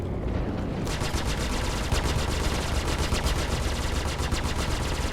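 Rapid automatic gunfire from ships in a Star Citizen space dogfight, a dense, steady rattling burst that runs loud and close for several seconds after a quiet start, with a brief word spoken near the end.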